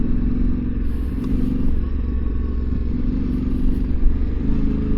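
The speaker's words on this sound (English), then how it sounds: "lately I've been just driving a little too fast with my Tenere" A Yamaha Tenere adventure motorcycle rides along a gravel dirt road, its engine a loud, steady low drone that rises and falls slightly with the throttle, with faint clatter from the loose surface beneath.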